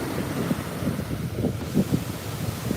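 Surf rolls onto a warm ocean beach in a continuous rumbling wash, with soft rhythmic surges and strong wind noise on the microphone, with no voices.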